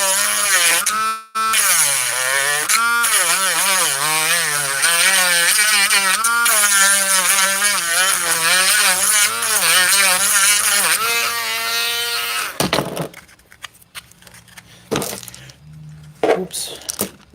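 Power sander grinding down a workpiece: a loud, steady buzzing whine with a wavering pitch runs for about twelve seconds, then cuts off, leaving a few faint knocks and handling noises.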